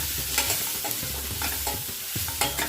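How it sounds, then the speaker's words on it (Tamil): Spiced pumpkin being stirred in a pan with turmeric, cumin powder and salt: soft scraping strokes with a spoon over a light sizzle, several close stirs repeated, no voices. "இதை இப்போ நல்லா கலந்து விட்டுருங்க."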